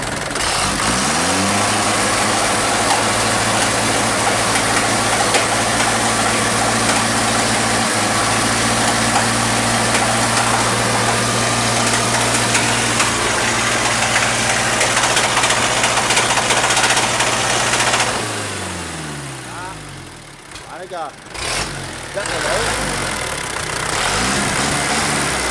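The Kia 35 engine of a straw-hauling truck with an Isuzu 2.4 axle idles and revs close by, a loud steady diesel rumble with knocking, then a sudden throttle dip and rising rev near the end, no talking.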